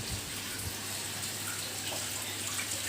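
A steady, continuous rush of falling water at a Ganesh shrine waterfall in Nonthaburi, Thailand, fills the scene, even and unbroken throughout.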